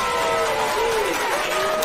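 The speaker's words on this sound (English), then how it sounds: "let's give Rob Bass his applause" A brief burst of audience applause, steady clapping for just under two seconds.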